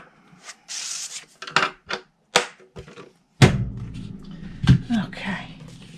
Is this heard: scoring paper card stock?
yes